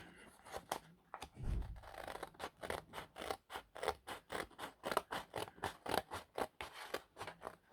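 Scissors snip through card for a folding tag in a run of quick, close, crisp cuts with a steady rhythm, fairly quiet and with no talking.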